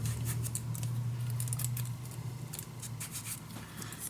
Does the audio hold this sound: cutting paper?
yes